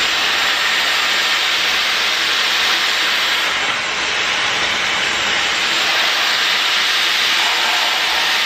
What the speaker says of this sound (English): Have to plug my hair dryer back in.